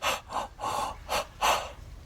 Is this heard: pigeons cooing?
no